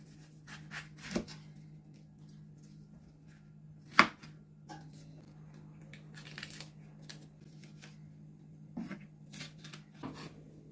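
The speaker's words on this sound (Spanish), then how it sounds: "Vamos a cortar el pimiento." Knife chopping a bell pepper into small cubes on a cutting board for a tuna and avocado salad, with scattered, uneven close taps and one sharper knock over a steady low hum.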